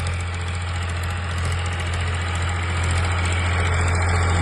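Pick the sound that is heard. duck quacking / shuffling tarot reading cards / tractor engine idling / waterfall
tractor engine idling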